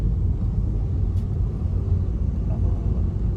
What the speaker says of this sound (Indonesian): Sekarang kita coba pakai AC-nya. Kita coba dengarkan.